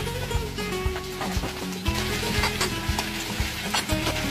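Sliced bell peppers sizzling in a sauté pan, a dense continuous hiss of frying with frequent soft knocks and clatters of stirring, close and steady, with no voices.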